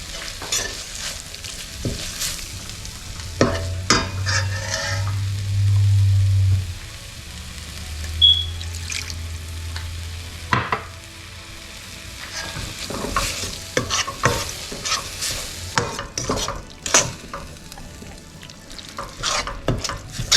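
Onions sauté in a hot pan for roadside-style parotta salna, sizzling while a utensil scrapes and clatters as it is stirred, in irregular bursts close by.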